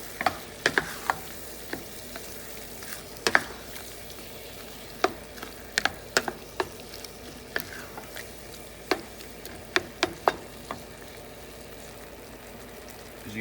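Cooked shrimp being stirred into creamy risotto in a pan, a low bubbling simmer with irregular wet clicks and spoon taps, close and steady with no talking.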